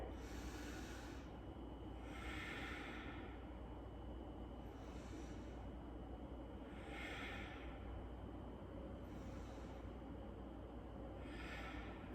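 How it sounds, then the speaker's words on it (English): Slow, steady breathing while holding a yoga pose in a gentle flow class, with several long airy inhales and exhales repeating at an even pace over faint background hiss. "Take 3 breaths here."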